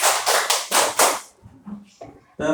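Groups of children clapping together in an elementary school classroom, bursts of unison claps in quick succession at the start, then fainter scattered sounds with brief voices.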